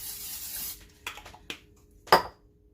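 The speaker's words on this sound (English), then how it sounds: "I have 2 of my little loaf pans here that I'm just gonna spray." A hissing burst of cooking spray lasting under a second, followed by a few quiet clinks and one sharper knock of metal loaf pans.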